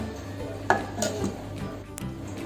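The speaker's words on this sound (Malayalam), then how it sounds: "അപ്പോൾ അത് കാരണം കൊണ്ട് നമ്മളിത് വെറുതെ അടിച്ചെടുക്കുക കേട്ടോ" Buttermilk is whisked by hand in a steel pot, with a few clinks of metal against the rim over a low steady background, close and moderately loud, with no talking.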